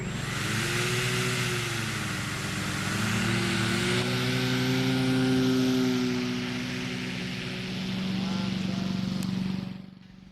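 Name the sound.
foam RC Cessna L-19 Bird Dog plane motor and propeller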